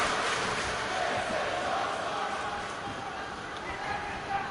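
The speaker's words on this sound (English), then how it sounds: "Crowd chanting, "This is awesome."" Wrestling crowd at a Dukes Championship Wrestling show chanting in unison, a loud, dense wall of voices filling the arena continuously throughout, with no commentary over it.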